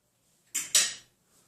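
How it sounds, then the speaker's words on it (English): Two quick clinks of a metal fork tapped against a quarter-cup measuring cup while making microwave bacon cheese muffins, close and bright with a short ring, then quiet. "Tapping my fork off."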